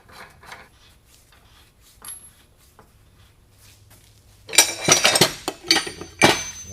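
Wrench work tightening bearing adapters on an old-style second-generation Toro roller: quiet metallic rubbing early, then a louder burst of clinking, scraping metal contacts near the end, close and with no voices.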